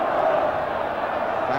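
A dense, steady roar rises from the football crowd at an FA Cup quarter final between Wimbledon and Watford after a goal, a sustained wash of voices with no break across the moment.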